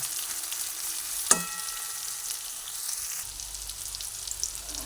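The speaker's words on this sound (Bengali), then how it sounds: "সুন্দর একটু ক্রিস্পি করে পটলগুলোকে আমি ভেজে নেব" Pointed gourd (potol) pieces fry crisp in hot oil, giving a steady close sizzle with a sharp clatter near the start as they are moved in the pan.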